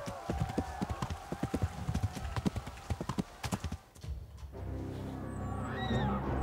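A horse galloping flat out in the medieval game Kingdom Come Deliverance, with rapid rhythmic hoofbeats close by for about four seconds, then a steadier rumbling ride with faint creaks and a distant whinny.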